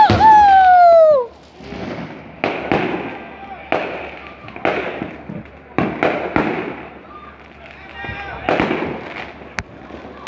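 Fireworks bursting at night: a run of sharp cracks and pops at irregular intervals, some close and loud, with whistling rockets rising first and cheering voices over the blasts.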